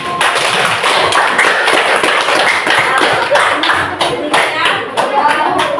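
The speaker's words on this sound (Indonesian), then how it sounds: "Tepuk tangan dulu untuk kelompok 1." A classroom full of people claps continuously for several seconds after a group presentation, a dense burst of applause with a few voices mixed in.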